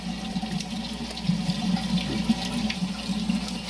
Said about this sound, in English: Oh, you're washing your hands?